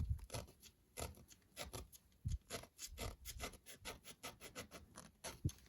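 Scraping of the coating off a porcelain-wound electronic component on a circuit board, a quick run of close, dry rasping strokes repeated in irregular bursts, with no talk.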